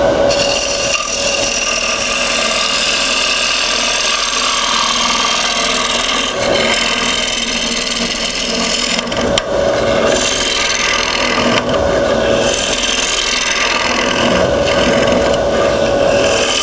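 A gouge rides the bevel as it cuts into a wooden bowl spinning on a lathe, giving a steady, loud, continuous scraping rasp that runs without a break, with small shifts in tone as the cut changes.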